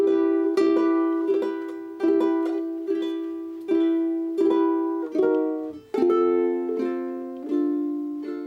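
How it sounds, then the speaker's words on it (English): A ukulele played softly with staggered strums that sit halfway between an arpeggio and a strum, roughly ten rolled chords at an even, unhurried pace, each ringing out and fading before the next, close and clear with no talking. "You can sort of play halfway between an arpeggio and a strum."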